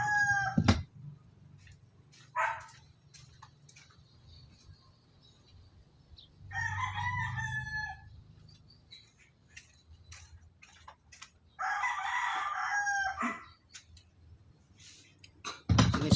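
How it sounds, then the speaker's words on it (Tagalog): A rooster crows several times in a quiet setting, each call a drawn-out cock-a-doodle-doo, with a soft ticking noise running through the gaps between the crows. "Tumitilaok na nasinig nyo."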